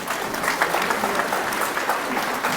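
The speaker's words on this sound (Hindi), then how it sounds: "आप तालियों से हमारे माननीयों का स्वागत करें" Audience at a Mansuri Teli community talent award ceremony in Sikar applauds steadily to welcome honoured guests, dense clapping sustained and even throughout at moderate distance.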